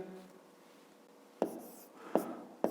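A pen writing by hand on paper while someone solves a fifth-grade maths exercise, heard as soft faint scratching with a few sharper taps and strokes, and a quiet voice at the very start.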